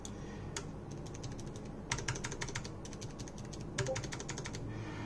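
Rapid clacky keystrokes from a mechanical keyboard with blue switches and keycaps fitted come in quick bursts with short pauses, sharp clicks close up over a faint background.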